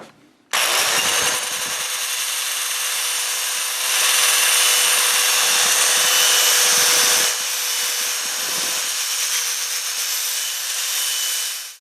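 A power tool with a flat sanding pad whines loudly and steadily against a Mercedes-Benz W140 S-Class wheel, running continuously for several seconds with slight shifts in pitch and pressure, then cutting off.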